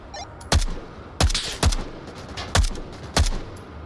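Gunshots in a video game shooter against terrorists, five sharp, loud single shots spaced irregularly about half a second to a second apart, with faint background between them.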